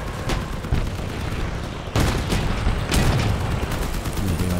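Cannons boom repeatedly in the vehicle combat game Crossout, with sharp blasts landing every second or so over a dense, loud wash of battle noise and gunfire.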